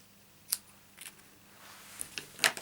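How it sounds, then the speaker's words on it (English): A few crisp snips of scissors trimming the ends off a card piece for a papercraft project, spaced sharp cuts close up in a quiet room. "let's trim the ends off for that one."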